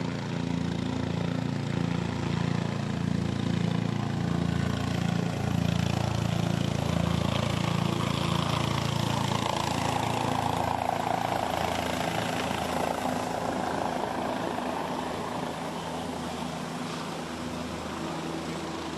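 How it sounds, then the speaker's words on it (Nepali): Helicopter flying overhead during a flower-shower ceremony at a large outdoor public event, a steady loud rotor and engine drone throughout that eases off slightly toward the end, with no talk. "पुष्प वृष्टि भइरहेको बेल हेलिकप्टरको नेतृत्व पाइलट प्रमुख सेनानी रतन श्रेष्ठले गर्दै हुनुहुन्छ।"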